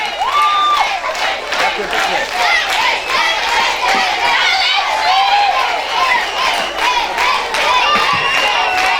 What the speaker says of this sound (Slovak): ja poprosím ešte raz veľký potlesk pre Ondra Kandráča